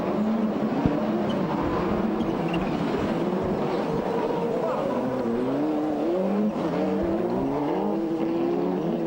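Rally cars of Tommi Makinen and Gilles Panizzi on a Monte Carlo Rally stage in the 1999 World Rally Championship: a steady engine drone with rising and falling revs as gears shift, heard under a commentator's talk.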